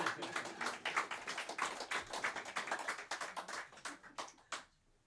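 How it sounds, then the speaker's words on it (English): A small audience at a poetry reading gives faint, crisp applause. A few pairs of hands clap quickly and unevenly, then thin out to scattered last claps before dying away. "Un aplauso para ustedes."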